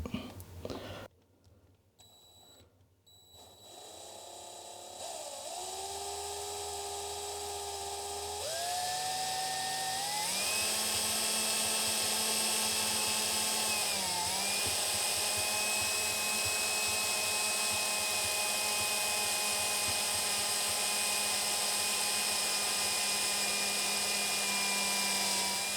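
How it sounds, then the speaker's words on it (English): Drilling through a computer case with a 5mm drill, a whining motor that rises in pitch in steps after a few handling knocks, then holds a loud, steady high drone. "Now I'm using a 5mm drill, and I'm gonna drill right through it."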